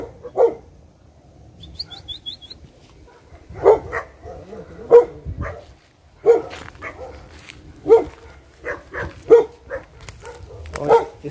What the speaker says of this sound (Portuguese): tá cheio de cachorro grande lá